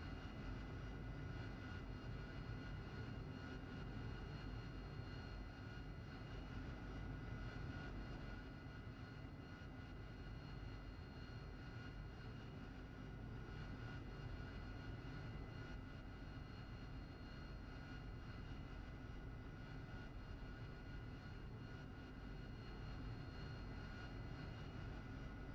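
Steady, faint fixed-wing aircraft engine drone from a flight video game, idling at a constant pitch while the aircraft waits for takeoff, with no voices over it.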